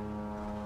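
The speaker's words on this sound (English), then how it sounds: "we have to listen to the airplanes fly over here in Victoria Harbor" A propeller airplane flies over Victoria Harbor beside a wooden boat under restoration, its steady droning hum held at an even level with no talking.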